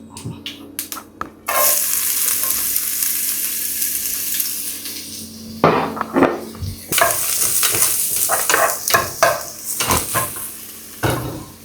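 Onions hit a hot pan with a sudden loud sizzle that continues steadily, broken by stirring clatters and scrapes of a spoon.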